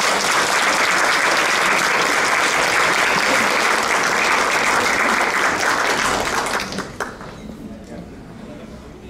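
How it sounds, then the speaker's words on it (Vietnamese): Theatre audience clapping to welcome MC Nam Lộc at a variety show, loud sustained applause filling the room for several seconds before thinning out. "Mai Hương xin được tất cả chúng ta cùng vỗ tay chào đón MC Nam Lộc."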